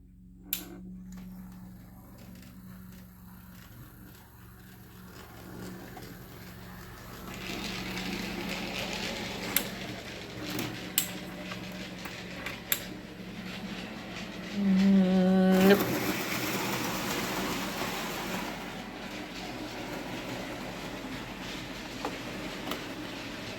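Small Hornby model train locomotives with dirty wheels, including an 0-4-0T tank engine, run along a track with a soft whirring hum and light clicking of wheels, a few louder clacks, and one brief squeal near the end.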